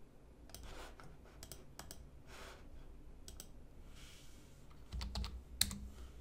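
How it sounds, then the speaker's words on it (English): Someone types on a computer keyboard nearby with quick, irregular clicks in short bursts, quiet and alone, ending with a louder cluster of keystrokes. "Sometimes it's easier to type it on these."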